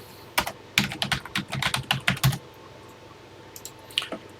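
Keys clatter on a TI-99/4A home computer keyboard in a quick, uneven run of close, crisp keystrokes, then a pause and a few more isolated taps near the end.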